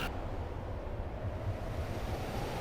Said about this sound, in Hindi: सागर की लहरों का स्वर